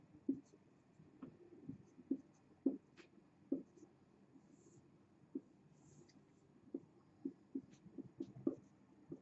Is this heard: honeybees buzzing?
no